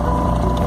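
A small outboard motor on a sailboat drones steadily with a low, even hum, running continuously without pause throughout.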